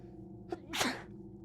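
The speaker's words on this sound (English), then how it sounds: "that sneeze truly just came out of fucking nowhere" A single sharp sneeze bursts out close by, preceded by a brief inhaled catch, against a quiet room hum during a tabletop game session.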